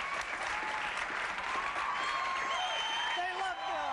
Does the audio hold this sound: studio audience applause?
yes